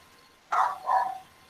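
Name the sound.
dog barking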